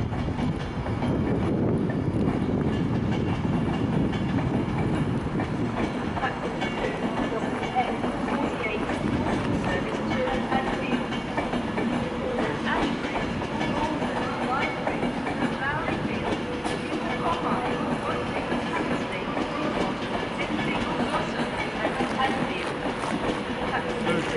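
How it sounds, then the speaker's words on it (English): A Class 390 passenger train in Virgin Trains livery rumbles steadily leaving Manchester Piccadilly station at a moderate distance, with a continuous broad roar and faint clacking, voices murmuring now and then. "that Virgin train is leaving 390-001 in the old Virgin Trains livery."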